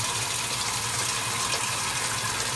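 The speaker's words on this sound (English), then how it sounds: "I'm going to just fill up just a little bit on low, just to make sure the big action agitator works as it should." Water pours steadily into the tub of a 1978 Kenmore washing machine with a porcelain tub and dual action agitator, filling on a low setting; a continuous, even rushing hiss runs throughout.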